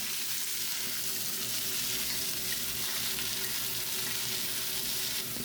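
Onion and green chilli sautéing in coconut oil in a pan sizzle steadily for several seconds with a dense, even crackle and no talking.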